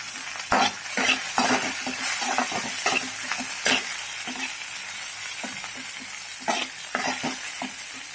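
Green chillies, garlic and curry leaves crackling and sizzling in hot oil in a kadhai, a constant bright hiss with repeated scraping stirs and spoon taps close up.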